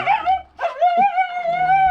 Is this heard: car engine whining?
no